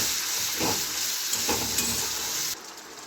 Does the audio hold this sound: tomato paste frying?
yes